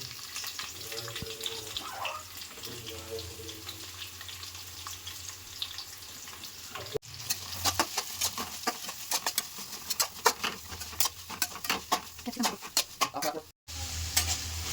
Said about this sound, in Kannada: ಅದು ಫ್ರೈ ಆದಮೇಲೆ ನಾನು ಈರುಳ್ಳಿನ ಹಾಕೊತಾ ಇದ್ದೀನಿ.